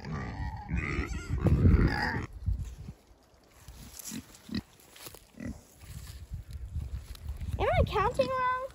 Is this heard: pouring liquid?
no